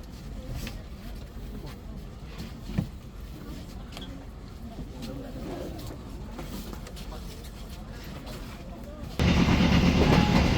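Steady rumble of a local train rolling along rails from Serang station toward Merak, with low clatter throughout and a louder surge of rushing noise near the end.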